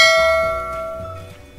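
A single bright notification bell chime rings out clearly and then fades away, heard alone.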